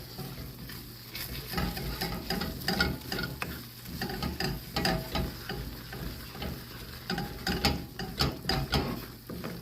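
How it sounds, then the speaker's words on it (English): Cream-cooked corn frying in a skillet while being stirred: soft sizzling beneath repeated scraping strokes of a utensil, close and moderately quiet, with no talking. "Now it's at the point where it's about to start frying because it done cooked out by all that liquid."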